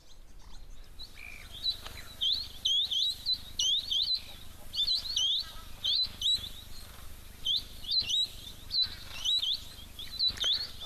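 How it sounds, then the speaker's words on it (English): Firefinches and other little birds chirp busily at a waterhole, with bright, repeated high tweets in quick clusters that keep going throughout, fairly close and lively over a quiet outdoor background. "My favourite little firefinches here."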